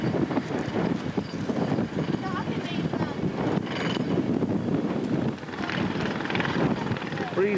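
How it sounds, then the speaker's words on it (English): Steady wind buffets a hilltop in Greece, a constant rumbling roar of gusts across the microphone with faint voices mixed in throughout. "Breezy up here."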